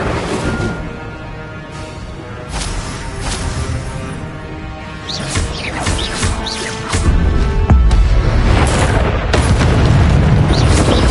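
Fire spell Incendio cast in the video game Hogwarts Legacy, heard as loud booming bursts and crackling impacts over a dense game soundscape, with repeated blasts growing heavier toward the end.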